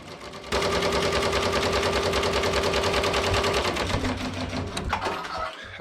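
Embroidery machine stitching a jacket design at speed 600, a fast, even mechanical rattle that starts suddenly, runs loud and steady, then slows and stops near the end.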